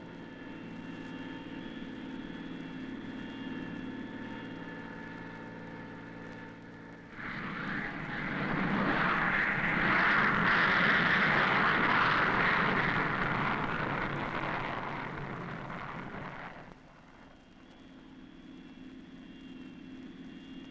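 A 1959 supersonic Air Force jet passes overhead, its roar swelling from a low drone into a loud, broad rumble for about ten seconds before dropping back to a faint hum.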